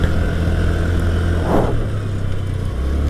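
A 2020 Honda Dio BS6 scooter engine hums steadily while riding, with a continuous mid-pitched drone and road and wind rush that swells briefly midway and stays loud throughout.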